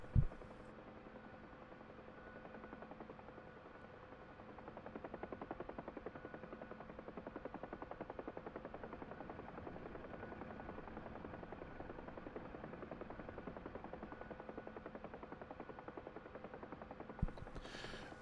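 A Bell 47 helicopter flown without a governor in the DCS flight simulator gives a steady, faint, low rotor thump and engine drone that runs evenly throughout, with a couple of brief clicks at the start and end.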